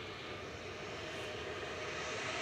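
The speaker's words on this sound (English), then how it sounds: "I think the Aer Lingus has pushed back the A330" An Aer Lingus Airbus A330 at Manchester Airport produces a steady, broad engine roar heard from a distance, continuous and unchanging with no voices over it.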